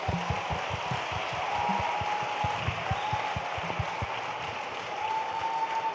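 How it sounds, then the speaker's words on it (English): An audience claps steadily and continuously at an empowerment youth week event, a dense, even wash of applause lasting throughout with no break and no voices standing out. "Ladies and gentlemen, let's give a huge round of applause."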